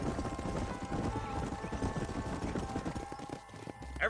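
Horse hooves clip-clop at a steady gallop in the Western video game Red Dead Redemption, with an occasional whinny and a low voice buried in the mix, continuous and fairly loud throughout.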